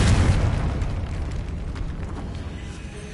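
The Confringo explosion spell from Hogwarts Legacy bursts with a loud, deep boom at the start. A crackling, rumbling tail then fades slowly over about three seconds.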